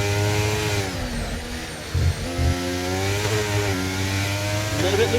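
Onboard engine note of an Aston Martin race car in a racing video game. A loud, steady high-revving drone rises and falls through gear changes, with no talk.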